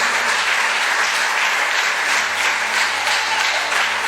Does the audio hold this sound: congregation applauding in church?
yes